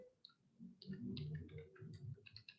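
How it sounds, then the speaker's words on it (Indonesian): Faint keyboard typing during a screen-recorded tutorial: a quiet run of irregular clicks and taps over a soft low background hum. "Oke, saya sambil ngetik."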